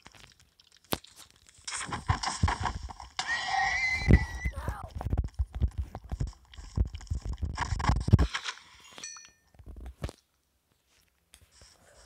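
Rapid galloping hoofbeats of a horse in busy Minecraft game audio, layered with a whinny and crunchy effects, before everything cuts off near the end.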